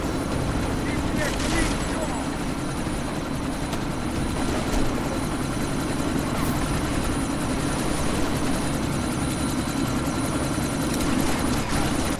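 Helicopter in the video game Deus Ex: Mankind Divided, a steady dense rotor and engine roar with wind noise from a sandstorm, continuous and fairly loud throughout, with game dialogue voices over it.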